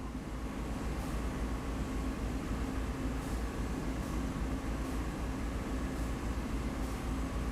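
Train passing in a Boston–Worcester train simulator game, a steady loud rumble and roar with faint rhythmic clicks of wheels on track, continuous and without talk.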